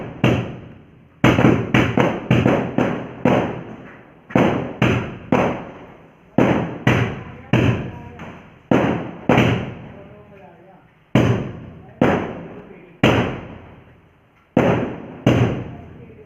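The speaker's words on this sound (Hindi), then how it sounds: "यहाँ पे बहुत ज़्यादा बम पटाखे फूट रहे हैं बाहर" Firecrackers and fireworks burst outside during a festive night, a long irregular series of sharp loud bangs, some in quick clusters, each ringing out with a decaying echo, with no talk over them.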